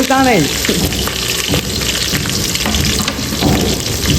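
Onions and chillies frying in a pan with a steady, dense sizzle throughout, a brief voice-like sound at the start and occasional stirring clatter.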